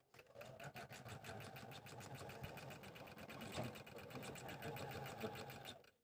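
A sewing machine stitches orange leaf pieces together, a quiet, fast, evenly pulsing run of needle strokes that continues steadily for several seconds.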